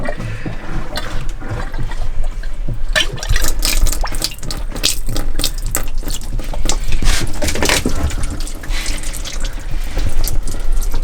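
Water runs from a faucet into a kitchen sink in a converted short school bus, a steady full splashing stream that continues alone throughout.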